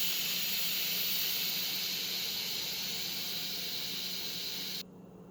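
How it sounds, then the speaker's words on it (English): Steam hisses steadily from an Instant Pot Viva after cooking eggs, a broad, fairly faint and even rush that holds for several seconds before cutting off sharply near the end. "the steam is getting lesser and lesser"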